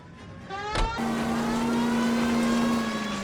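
A car chase in the L.A. Noire video game: a steady, droning engine note holds at a constant pitch with road noise beneath it, and a short thump sounds near the start. No one speaks.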